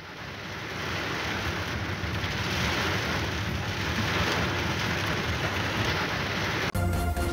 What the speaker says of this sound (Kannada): ಮಳೆಯಾಗ್ತಾ ಇರೋ ದೃಶ್ಯ ಇದೆ.